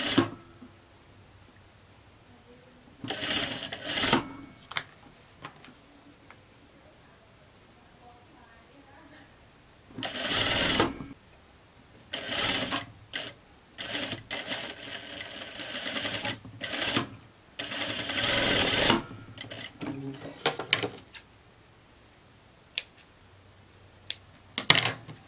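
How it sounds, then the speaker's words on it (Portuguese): A sewing machine topstitches a folded skirt hem in several separate bursts of fast, steady stitching, each lasting a few seconds, with quiet pauses between them as the fabric is folded. "Aí é só ir dobrando e pespontando."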